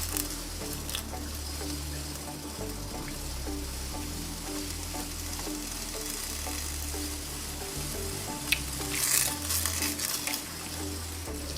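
A steady sizzling and bubbling of sweet coconut milk heating in a rice cooker pot, continuous and close, with no voices.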